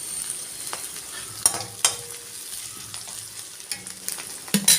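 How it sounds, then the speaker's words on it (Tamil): Onions and green chillies sautéing in a pan for restaurant-style veg noodles, a steady soft sizzle with a few sharp spatula scrapes and clicks, close and alone without talk. "வெங்காயம் கொஞ்சம் வதங்கட்டும்"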